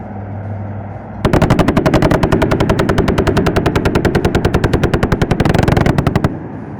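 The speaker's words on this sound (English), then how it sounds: "The deadly burst of 20mm rounds are neutralizing the enemy on the ground." A long, rapid burst of heavy 20mm cannon fire from a helicopter at an Indian Air Force firepower demonstration, loud and close, with hammering shots in a steady, fast rhythm lasting about five seconds.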